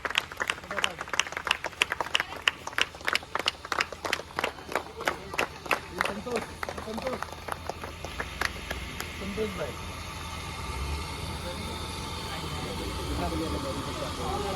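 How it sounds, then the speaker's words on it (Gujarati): A crowd claps in rhythmic unison to welcome guests at the opening of a village volleyball tournament, loud regular beats that fade into scattered applause over an idling engine, with someone talking over it. "અહીં તાળીઓની ગરગડાટ બંધ ના થવું જોઈએ"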